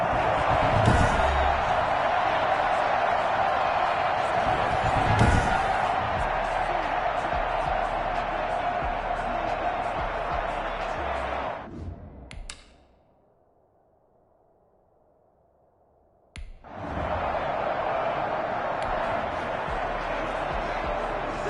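Stadium crowd roar from the Madden NFL 21 football video game on PS5, a loud steady din with a couple of bursts, cutting out to near silence for a few seconds mid-clip before returning.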